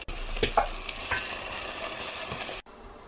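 Spice paste for fish pulusu frying in a pan while being stirred, with continuous sizzle and a few scraping spoon strokes near the start, cutting off abruptly near the end.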